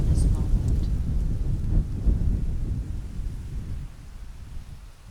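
Wind blowing at sunset, a steady low rushing roar with gusty swells that slowly eases over a few seconds, close and fairly loud.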